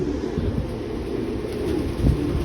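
Pigeons in a racing pigeon loft coo in low, soft repeated calls close by, over a steady background rumble.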